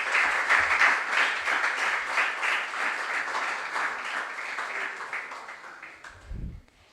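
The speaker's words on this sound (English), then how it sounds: "let's clap for our contestants." Audience clapping for contestants at a junior science and maths quiz: a lively burst of many hands that gradually thins and fades out, ending with a soft low thump.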